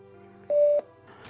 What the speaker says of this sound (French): Un petit bruit vous dit que votre iPhone s'est connecté à votre enceinte.